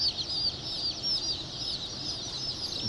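A white Polish chicken makes soft, repeated high clucks and chirps, fairly quiet and close, against a steady background hiss.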